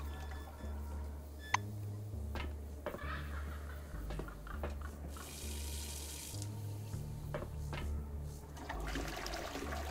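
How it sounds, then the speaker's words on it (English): Water runs from a tap into a sink while face and hands are washed in the post-apocalyptic game Encased, giving a steady, fairly quiet splashing flow with a few small clicks and a brief louder splash partway through. "Washing our face and our hands."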